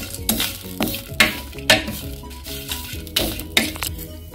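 Grated coconut dry-roasting in a pan for a chayote squash (chow chow) curry masala, with soft sizzling under repeated rhythmic scrapes of a spoon against the pan, close and fairly loud.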